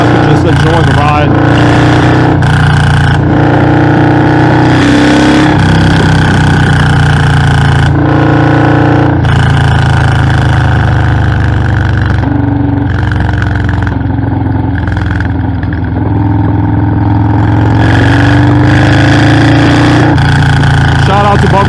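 A Harley-Davidson FXLRS with an M8 117 engine is heard up close while riding, its deep, loud rumble rising and falling with throttle and gear changes, with wind noise throughout and brief gaps between pulls.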